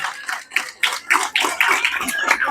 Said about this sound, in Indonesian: Tepuk tangan untuk orang Madura ya.